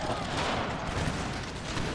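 Musket volley fire in Empire: Total War, a dense continuous rattle of massed shots with a roaring battlefield wash, sustained and loud throughout with no pauses.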